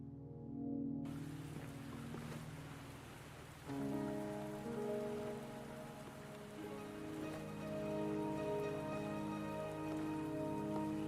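Steady rain falls in the video game Wuthering Waves, a constant hiss of drops on surfaces under tonal background music, with no talk.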